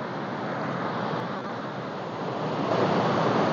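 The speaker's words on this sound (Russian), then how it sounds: "Вот это у нас великая река Тагил. Сброс сильной воды," Strong rushing water of the Tagil river, swollen after rains, roars as a steady broadband wash, loud and close with no pauses and no voices.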